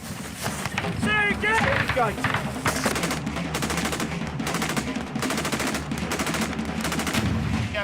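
Military fire support opening up together in an infantry assault by British Grenadier Guards, with tracer rounds flying overhead: loud, dense, continuous bursts of machine-gun and rifle fire rattling throughout, with shouted voices in the first seconds.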